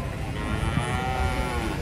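A white tongo cow gives a low, sustained moo close by, a single drawn-out call heard alone.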